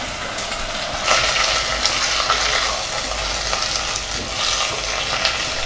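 Freshly cleaned drumstick leaves (murungai keerai) sizzle in a pan for a dhal kulambu, with continuous frying hiss and stirring scrapes, close and steady, with no voices.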